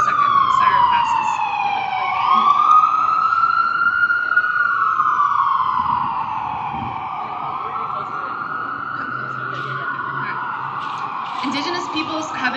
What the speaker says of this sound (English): We're just going to wait for a second when the siren passes.